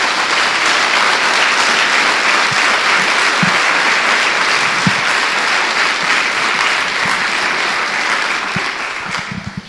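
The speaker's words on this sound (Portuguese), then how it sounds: "Dê uma salva de palmas ao Senhor." A church congregation claps hard and steadily in a dense, loud wave of applause with occasional low thuds, lasting nearly ten seconds before it starts thinning out at the end.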